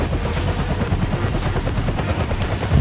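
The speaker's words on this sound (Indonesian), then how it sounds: "ada helikopter ternyata ya guys ya, let's go, kita naik guys" A helicopter in the Bunzo Bunny video game takes off, its rotor chopping in a fast steady thump under a loud engine whine, close and continuous with no voices.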